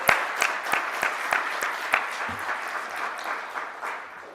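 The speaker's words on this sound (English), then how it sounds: "you can give her another applause" Audience applause at an international conference in support of Cuba, a dense burst of clapping with distinct loud claps up front, tapering off over a few seconds.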